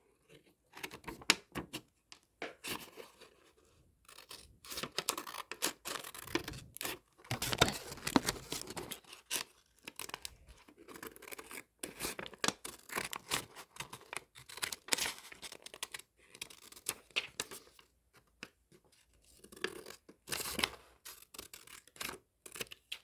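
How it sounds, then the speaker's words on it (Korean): Scissors snip through paper along a marked line while origami figures are cut out, giving repeated close, crisp cuts and rustles in irregular bursts with brief pauses, fairly quiet and with no voice over it. "가위는 이 선에 따라서 잘라주면 되고요."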